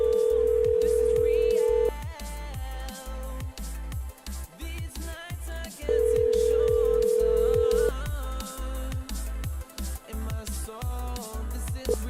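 A phone call rings through toward voicemail as two long, loud ringback tones play over a busy, rhythmic background.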